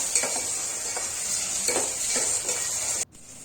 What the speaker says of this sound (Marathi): कांदा चांगला सोनेरी रंगापर्यंत भाजून घेऊया